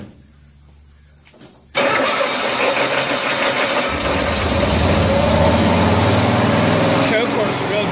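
A 1974 Cushman Truckster Haulster cold-starts with an abrupt catch, then runs at a loud, steady high idle on choke, close to the microphone, the pitch settling slightly as it continues.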